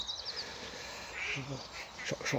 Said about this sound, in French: Je regarde les canards là, qui sont en train de se battre pour une femelle.